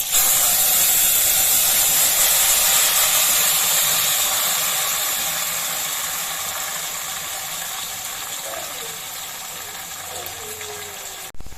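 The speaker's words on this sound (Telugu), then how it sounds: "కరివేపాకని, చిటపట అనిపిస్తుంది" Curry leaves sizzle and crackle in hot oil, a loud steady spitting hiss that gradually eases over several seconds.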